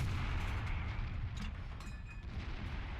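A heavy FV215b tank gun fires in the World of Tanks video game, a deep booming shot with a rumbling low tail that fades over a few seconds, followed by faint clanks.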